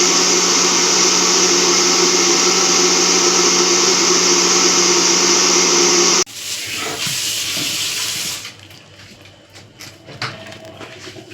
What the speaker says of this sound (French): Maintenant on va passer au mixeur.